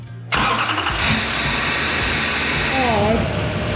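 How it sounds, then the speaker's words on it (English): A diesel truck fitted with only an open downpipe cranks and fires up, settling into a loud, raspy, rumbling idle close by, with a short voice heard partway through. "Mike wants to hear his truck with just the open downpipe."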